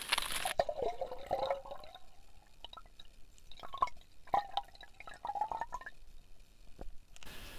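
Hydrogen peroxide poured into a swimming pool: a steady, trickling liquid stream with drips and gurgles continues throughout, fairly faint and with no talk.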